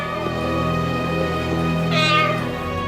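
A high, cat-like meow from a parrot imitating a cat rises near the end over a steady droning background, sounding slightly artificial.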